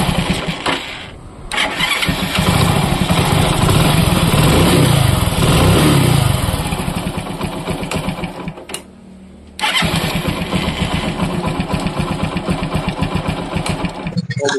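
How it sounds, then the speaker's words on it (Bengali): A Hero Splendor Passion motorcycle with a fault that made a harsh noise on starting is cranked by its self-starter and fires up, running loud and steady, with a brief drop near the end before it resumes. "এবার একবার সেলফটা মেরে দেখাবো"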